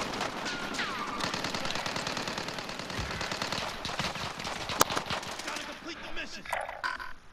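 Rapid automatic gunfire rattles in Call of Duty: Modern Warfare, with dense bursts of shots and a sharp crack near the middle, under faint voices.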